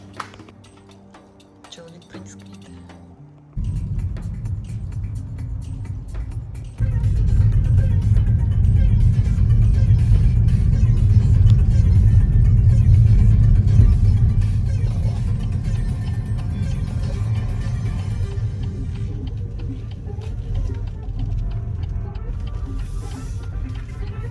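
A car pulls away and keeps driving; a low engine rumble rises in two steps and then holds as a steady road drone, heard from close by.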